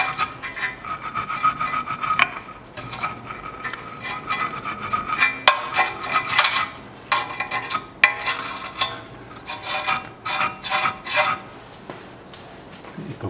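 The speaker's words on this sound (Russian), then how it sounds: "Почищу резьбу маленько." The threaded bolt of a Land Rover Defender rear shock absorber is scrubbed clean: close, uneven bursts of rasping, brushing strokes in irregular rhythm, with no talk.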